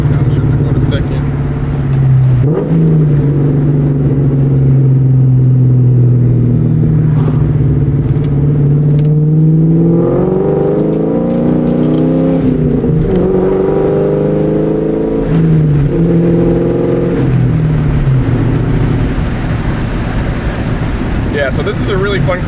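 A 1999-2004 New Edge Ford Mustang GT engine drones loudly from inside the cabin, its pitch climbing as it accelerates, dropping at a shift into second gear, then pulling up again.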